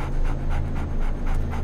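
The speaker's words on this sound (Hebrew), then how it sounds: "כלב טוב, כלב חזק זה." A dog pants in quick, steady rhythmic breaths, close and fairly loud, in a brief burst with no talking.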